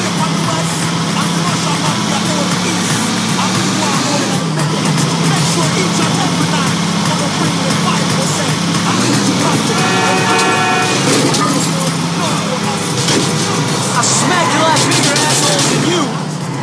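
A car is driven through the streets in GTA IV, its engine a steady loud drone with occasional horn toots, while characters talk over it throughout.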